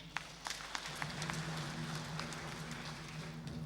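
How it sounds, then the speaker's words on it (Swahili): A church congregation at a Kikuyu Sunday service applauds the worship leader, scattered sharp claps building into steady, moderately distant clapping over a low sustained hum. "Watupigie kiongozi wa ibada makofi"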